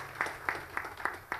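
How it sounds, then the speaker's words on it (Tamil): An audience claps at a Sangamam reunion gathering in March 2025. Five evenly spaced, fairly faint claps sound in a steady rhythm. "அவங்களுக்கு நம்மளுடைய கைத்தட்டல்களை கட்டாயம் கொடுத்தாக வேண்டும்."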